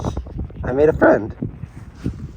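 A dog gives a couple of close, whining vocal sounds in the middle of the moment, with a person talking around it on a coastal California motorcycle trip.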